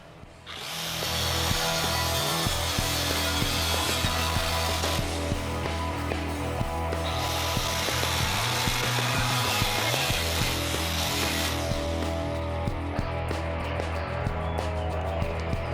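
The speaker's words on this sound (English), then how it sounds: "I guess we're going to use the cutoff wheel and cut that hole right there as close as we can." An abrasive cutoff wheel cuts a hole in metal while mounting parts on a go-kart, a continuous loud grinding whine that ramps up at the start and runs steadily with slight pitch shifts and no talk.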